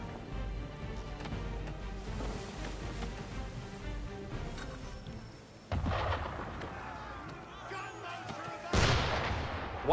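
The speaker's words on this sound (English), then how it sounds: "Why is he shooting at us?" Cannon fire aimed at a small boat in Assassin's Creed III, deep booming shots and rumbling blasts over sea ambience, with two sharp, louder reports standing out near the end.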